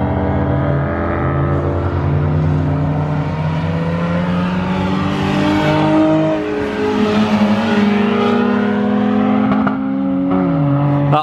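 A Honda Civic EJ9 race car on track drones loudly and continuously at high revs, the engine pitch climbing and sagging as it bounces against the rev limiter, close and dominant with no talk.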